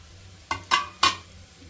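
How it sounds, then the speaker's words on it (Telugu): Cut pieces of egg omelette dropped into a simmering curry in a pan make three quick, close splatting sizzles in succession over a quiet background. "సో ఇప్పుడు కట్ చేసుకున్న ఆమ్లెట్ అయితే అందులో వేసేసుకుందామండి"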